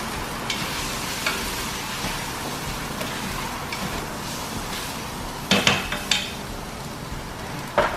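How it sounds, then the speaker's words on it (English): Rajma masala sautéing in a pan, a steady low sizzle with scraping stirs and a few louder clinks of utensil against the pan near the end, close and without talk. "now I'm just gonna let it saute a little bit"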